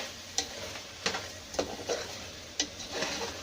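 Mutton with ginger frying (bhunai) in a pan: a faint, steady sizzle broken by several sharp scraping clacks as the pieces are stirred, with no voices.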